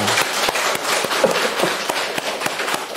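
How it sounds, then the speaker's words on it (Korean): A church congregation gives a burst of steady applause, sustained dense clapping with sharper individual claps standing out, continuing throughout. "하나님께 영광의 박수 올려드리겠습니다"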